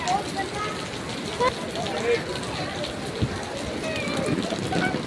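Heavy rain pours down steadily in Baguio City, a dense, constant hiss of drops on surfaces with people talking faintly underneath throughout.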